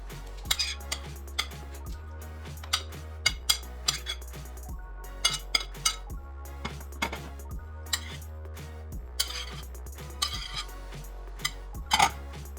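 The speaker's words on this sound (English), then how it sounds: "Add the meat to the peppers." Meat going into a pan of cooked peppers, with a metal utensil clinking and scraping against the pan in an irregular rhythm and faint sizzling beneath, no talking.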